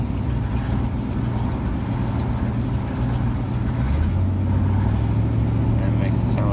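The 383 engine of an old Chrysler Newport idles high because its carburetor secondaries are sticking, giving a steady, loud, low rumble that holds all the way through and climbs slightly in pitch partway.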